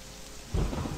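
A thunderstorm in the video game Morrowind: steady rain hiss, then a deep rolling thunder rumble swells in about halfway through, close and heavy.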